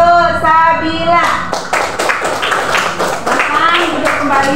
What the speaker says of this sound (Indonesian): kita berikan tepuk tangan dulu untuk Sabila.